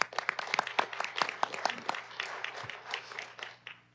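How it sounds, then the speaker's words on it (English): Applause for a fire rescue department, a moderate round of clapping with distinct individual claps that thin out toward the end. "let's give them all a big round of applause"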